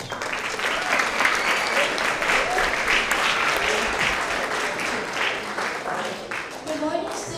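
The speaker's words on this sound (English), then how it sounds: "Let's give her a round of applause." A school award assembly audience of students and parents breaks into a full, loud round of applause that holds steady, then thins out at the end as voices start to come through.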